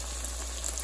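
A battered blooming onion fries in a pan of hot oil, giving off a steady, dense sizzle with a fine crackle that holds without break, close and fairly loud.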